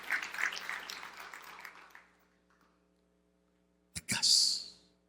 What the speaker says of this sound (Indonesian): Tepuk tangan yang meriah untuk kemuliaan Tuhan.